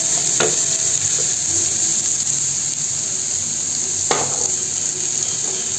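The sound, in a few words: curry leaves sautéing in a pan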